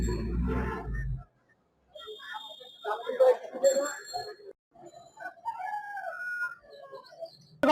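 Asil chickens cluck and a bird calls amid a busy poultry market at Kaptan Bazar, with people talking nearby and a bright ringing tone at times.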